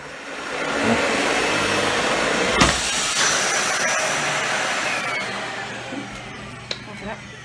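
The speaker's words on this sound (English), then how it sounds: "Alright, and then I'm going to turn it on." A household vacuum cleaner switches on and runs with a loud steady whirring roar, with a few clicks and bumps along the way while a person speaks over it.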